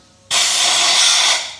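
A short, loud burst of compressed air blasts dust out of the intake valves on a BMW N54 engine, a steady broadband hiss that starts abruptly and holds for about a second before tapering off.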